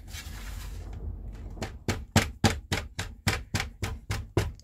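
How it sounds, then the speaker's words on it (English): A steady run of sharp hammer blows compressing a sand casting mold, about a dozen in quick even rhythm, close and fairly loud after a brief quieter rustle at the start. "And then in a second, I'm going to whack it with the hammer again."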